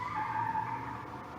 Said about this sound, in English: Someone's doing burnouts.